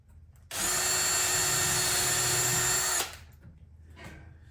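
A Ryobi power drill bores into a handmade wooden snowflake, coming in at an angle: a loud, steady high-pitched whine that starts abruptly, holds for about two and a half seconds, then cuts off and winds down.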